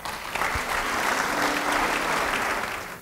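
A church congregation applauds during a sermon with a full, sustained round of clapping that fades at the end.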